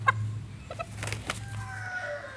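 A few short clucks from chickens near the start, then quieter scattered bird calls over a steady low hum in the background.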